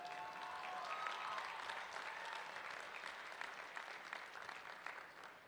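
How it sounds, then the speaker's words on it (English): Audience applause at a university commencement ceremony, a broad sustained clapping from a large crowd that holds steady and then slowly tapers toward the end, heard at a moderate distance. "That can get some applause."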